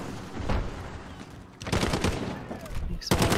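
Bursts of rapid gunfire ring out in a shooter video game, loud clustered volleys separated by short gaps, with game noise and voices mixed in.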